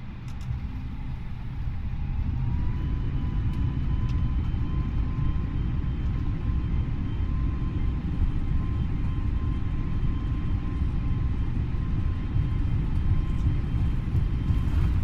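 Simulated EasyJet airliner beginning its takeoff roll in Microsoft Flight Simulator 2020, departing Reykjavík for Edinburgh: a steady, loud low engine rumble with a faint thin whine above it, building slightly in the first two seconds and then holding constant.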